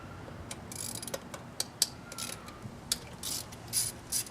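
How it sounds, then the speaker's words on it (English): A ratchet cracks loose 12 mm bolts, producing a close run of sharp, irregular mechanical clicks and short ratcheting bursts that stand out against a quiet background. "These are 12 mil right here, and I'm just going to crack them."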